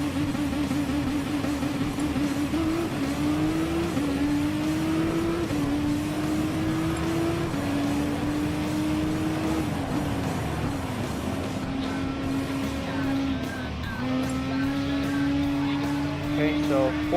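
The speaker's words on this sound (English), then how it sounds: "Now, let's see how that 2020 concept car to go fast for it." A 2020 concept car's engine in Gran Turismo Sport hums at a steady, slightly rising pitch during an online drag race at Blue Moon Bay, with small shifts along the way. The engine holds loud and continuous beneath someone talking.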